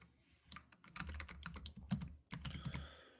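Someone types on a computer keyboard, entering an IP address: bursts of crisp, close key clicks in quick uneven runs with a short pause in the middle, no voices.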